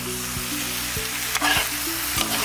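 Prawn roast sizzles in a hot pan as it is stirred, a dense frying hiss over a steady low hum, with scraping strokes and a louder stir near the middle.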